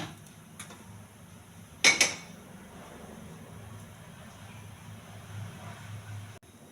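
A metal pan set down onto a lit kitchen stove: two quick clanks close together, fairly loud against a quiet room with a low steady hum.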